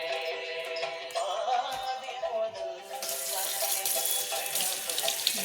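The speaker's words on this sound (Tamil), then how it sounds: "கையை கழுவு, 2 கை கழுவு." Water runs steadily from a kitchen tap as hands are washed after cutting apples, a continuous close splashing that grows brighter and fuller partway through, with a few soft clunks and no talking.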